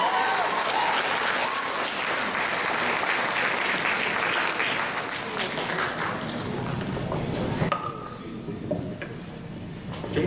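Sustained audience applause at a Vietnamese school's end-of-year graduation ceremony in Tustin, a dense steady roar of many hands clapping for several seconds, thinning slightly toward the end.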